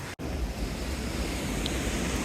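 Waterfall water gushes below a bridge in a loud, continuous broadband roar that fills the scene, with no voices.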